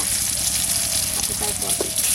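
Egg sliding into hot salted oil with turmeric in a clay mud pot gives a steady, bright sizzle that crackles throughout at close range, with a faint voice underneath.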